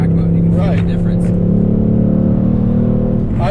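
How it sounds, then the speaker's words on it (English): A Ford Mustang Dark Horse engine holds a steady, loud harmonic drone, its pitch easing gently as it revs, close by, with a voice faintly underneath. "I love this engine. It's wonderfully linear. It sounds great."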